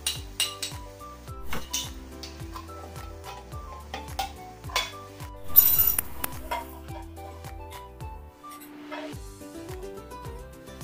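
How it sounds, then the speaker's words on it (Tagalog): Corned beef sautéed in a pan with garlic and onion for spaghetti, a steady run of metal spatula scrapes and clinks against the pan over a low sizzle, close and busy throughout. "ilagay mo na yung corned beef at gisahin"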